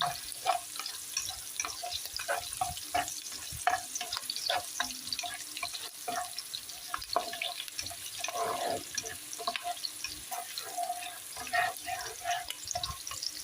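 Garlic and onion being stirred and mixed in a cooking pan, with irregular scraping and clinking of a utensil over a soft sizzle, moderately close and steady, with no talking.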